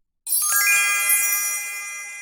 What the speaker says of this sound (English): He can hear the sound of little bells and opens the door